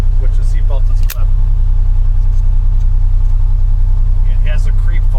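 Polaris Ranger UTV engine idling steadily up close as the vehicle creeps forward on its own in gear, a low continuous hum with one brief click near the start and faint speech over it.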